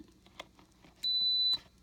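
An Instant Pot pressure cooker gives a single sharp electronic timer beep, about half a second long, clear and close in a quiet kitchen with faint handling noises around it.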